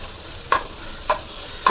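Garlic egg fried rice is stirred in a pan with three sharp, evenly spaced scrapes over a soft, constant sizzle.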